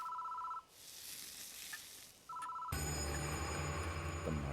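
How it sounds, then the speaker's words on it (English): A telephone rings in two electronic bursts in the Deathmark horror video game, steady and clear over a faint hiss, before a denser ambient drone with low hum takes over. "The phone's ringing."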